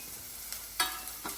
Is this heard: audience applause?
no